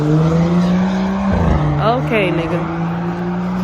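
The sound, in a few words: cars revving and skidding in the street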